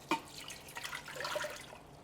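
Water pours into an Instant Pot fitted with a steamer rack before beef tamales go in, a soft, quiet splash and trickle that starts with a brief drip and swells gently for about two seconds.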